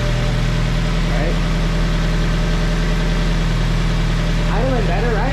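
The engine of a 1999 Mazda Miata NB idles steadily and loudly up close after a Skunk2 throttle body swap, with a few faint chirps and voices in the background.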